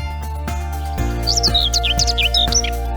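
Small birds such as the grey warbler, magpie shrike and tree pipit chirp on open moorland, quick high twittering calls coming in bursts over a steady low background drone.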